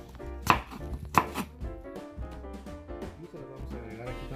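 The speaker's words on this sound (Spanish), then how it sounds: "Tiramos las semillas y los cortamos así en tiritas" A knife chops through fruit on a cutting board, cutting it into strips, with two sharp, loud cuts close together followed by softer, quicker strokes, close up and with no voices.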